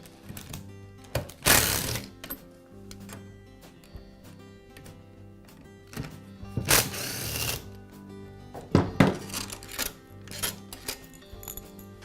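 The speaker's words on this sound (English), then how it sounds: "Now remove the 4 bolts that secure the motor half of the saw to the gearbox." Bolts being worked loose from the gearbox of a Skil worm-drive circular saw, heard as a few loud metallic rattling bursts with clinks and tool clatter in between, close up and with no talking.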